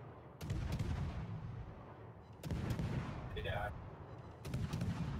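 Heavy naval gun salvos from warships in World of Warships during a clan battle, three booming broadband blasts at roughly two-second intervals, each with a long rumbling tail, and a brief voice in between.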